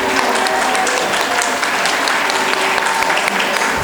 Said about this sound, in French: Et je vous demande de vous applaudir très fort ce soir.